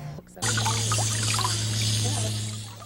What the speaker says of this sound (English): This, what she says, is a broken water line.